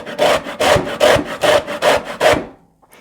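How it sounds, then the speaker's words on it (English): Lemon peel is grated on the fine panel of a box grater in six quick, even rasping strokes, close and loud, before it falls silent. "I'm just going to use the fine grate panel on my box grater"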